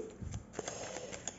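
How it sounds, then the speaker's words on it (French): A deck of tarot cards being cut, giving brief soft shuffling and flicking card sounds, close and quiet, with no speech. "Je vais faire une coupe avec le tarot."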